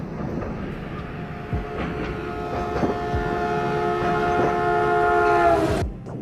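Riding a train in the game Into The Radius: a sustained horn-like tone rises over the rumble and periodic clatter of rail cars, holding loud for several seconds before cutting off abruptly.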